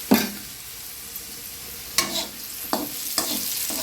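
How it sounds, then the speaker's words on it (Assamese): Small whole potatoes fry in a pan for an Assamese vegetable dish, giving a soft, steady sizzle broken by a few sharp stirring scrapes, with no voices. "মই ইয়াতে সৰু সৰু আলু এয়া ভাজি আছোঁ।"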